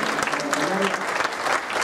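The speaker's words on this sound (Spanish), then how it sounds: "un aplauso fuerte por los..." Hearty audience applause at a tenth-anniversary community celebration, a dense continuous wash of clapping with murmuring voices underneath.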